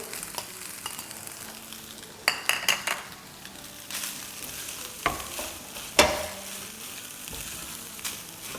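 Rice stir-fried in a pan with sautéed garlic over a medium flame, for fried rice: a continuous close sizzle broken by scraping spatula strokes and occasional metallic clinks against the pan; no one speaks.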